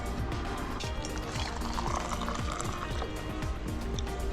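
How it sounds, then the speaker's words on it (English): Water heating in a pot for washing up at a camp spot, a steady low bubbling and simmering with small liquid pops, close and fairly quiet, with no talk. "Heating water up for the washing."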